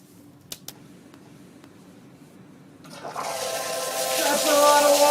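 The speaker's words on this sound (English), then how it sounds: "His job is to dump a gigantic amount of water on you really fast." A lab emergency safety shower dumps a huge rush of water, starting abruptly after a few quiet seconds with a couple of faint clicks, then pouring loudly and steadily as the splashing builds.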